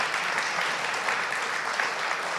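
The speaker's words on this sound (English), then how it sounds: "please, a round of applause for everyone" An audience at a federal budget announcement on a union training program breaks into applause, a dense, even wash of clapping sustained throughout at moderate level.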